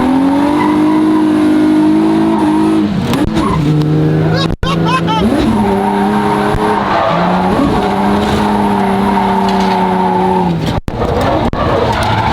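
A Toyota AE86 on a racing lap: the engine howls high and loud, pitch dropping through a second-to-fourth gear change, with a brief tire squeal and a voice talking over it.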